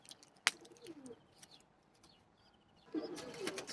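Young pigeon chicks from a 2023 hatch coo softly in a few low, faint bursts near the start and end, with a sharp flutter or tap and light chirps in between.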